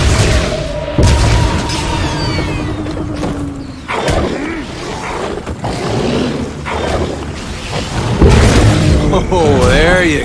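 Land mines blowing up beneath a charging tyrant monster in the game Evolve, several loud booms and blasts bursting through a busy battle soundscape while someone talks over them.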